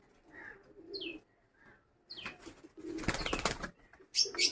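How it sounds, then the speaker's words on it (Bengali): Pigeons coo softly in short phrases, with occasional chirps and a brief flutter of wings toward the end. "পায়রাগুলো সব চলে গেছে ওই ছাদে"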